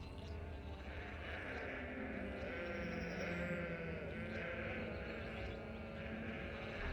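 Faint, distant bleating of sheep in the Gothic II video game, set over a constant ambient hum of wind and background noise, with no talk.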